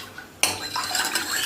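A utensil stirs food in a pressure cooker pot, giving a sudden metallic scrape followed by repeated clinks and scraping against the metal, close and fairly loud with no talking.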